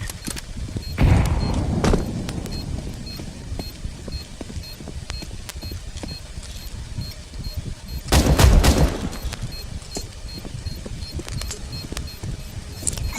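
Video game firefight with a thrown grenade exploding, two heavy booming blasts several seconds apart amid scattered sharp gunshots and clatter, loud and close.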